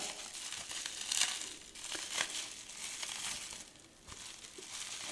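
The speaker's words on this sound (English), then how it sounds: "packed very securely here in some bubble wrap that is taped nice and tight" Taped bubble wrap around a lighter is pulled and unwrapped up close, giving irregular crinkling and crackling plastic rustles with soft tearing of tape, no voices.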